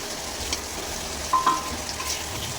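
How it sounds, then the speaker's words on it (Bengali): Potato and cauliflower sautéing with spices in a pan, a low, even sizzle with a couple of brief clinks of stirring, close and quiet with no voices. "এভাবে আমি আলুটাকে আর ফুলকপিকে কষিয়ে নেব ভালো করে মশলার সাথে"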